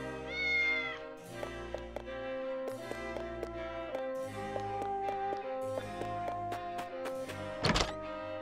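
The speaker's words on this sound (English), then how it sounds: "Okay, pet the cat." A cat in the video game Triangle Strategy meowing as it is petted, a clear close meow followed by gentle game music with plucked notes and a brief soft thunk near the end.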